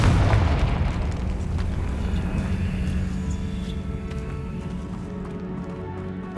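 An explosive blasting spell in the wizarding game Hogwarts Legacy, heard inside a tomb: a loud boom opens, then a long rumbling, crackling decay with scattered debris clatter that fades slowly over several seconds, with no talk.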